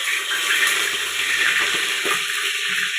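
Running water splashes and swirls as chicken is washed in a bowl, close and continuous, with occasional low knocks.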